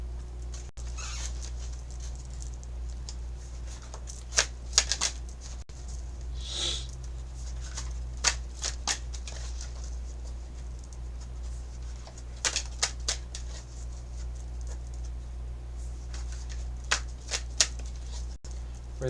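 Astrology cards are shuffled and handled during a tarot and oracle reading, making soft, scattered riffles and flicks in short clusters over a quiet, steady background hum.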